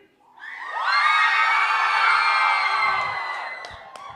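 An audience at an evening community gathering erupts in screaming and cheering, a loud sustained crowd roar of whoops and yells that swells quickly, holds, then tapers off.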